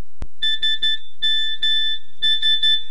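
A phone's text message notification tone plays as a bright electronic chime in repeated quick bursts of two pitched notes, clear and close, in three rhythmic groups with short gaps and a sharp click at the start.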